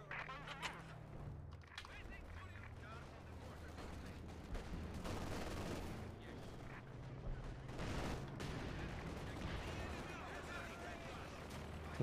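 Suppression strafe gunfire in a strategy video game, a dense, continuous rattle of shots and rumbling impacts that runs for many seconds at low volume with a voice talking over it.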